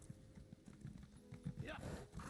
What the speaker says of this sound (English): I have a horse.